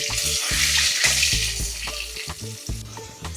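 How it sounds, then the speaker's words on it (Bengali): Potato pieces, salted and dusted with turmeric, fry in hot mustard oil for a mutton curry, giving a loud continuous sizzle with repeated clanks and scrapes of stirring, close to the microphone. "আলুগুলো লাল লাল করে ভাজা হচ্ছে"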